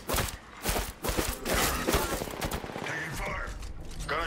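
Rapid gunfire rattles through a match of the battle royale game Apex Legends, with dense bursts of shots and thuds up close, followed by quieter game effects and voices in the background.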